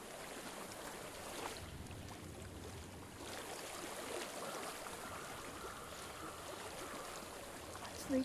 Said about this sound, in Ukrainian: Я чую воду.